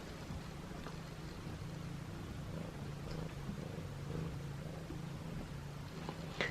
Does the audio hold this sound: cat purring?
yes